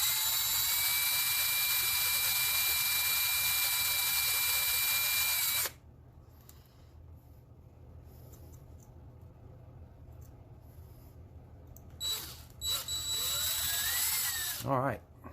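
Power drill boring a hole into a Hot Wheels Honda Civic Si die-cast model, a loud steady whine running for about five seconds, then stopping, followed by quieter handling noise and a brief second burst of drilling near the end.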